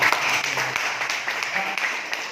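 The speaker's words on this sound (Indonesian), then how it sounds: "Tepuk tangan yang mulia dulu." A seminar audience claps steadily for a couple of seconds, a busy patter of many hands at moderate volume.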